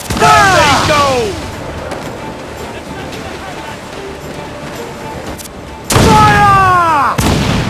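Pirate ship cannons firing in Assassin's Creed IV: Black Flag, loud booming volleys with whistling shots, one burst at the start and another near the end, a quieter rumble between and shouting crew.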